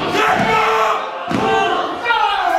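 A wrestling crowd roars loudly at a powerbomb in the ring, with a dull thud from the impact and a fresh surge of shouting and cheering around the midpoint, continuing strong to the end.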